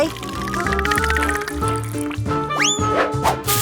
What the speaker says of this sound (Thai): เทแฟนต้าที่เราชอบลงไป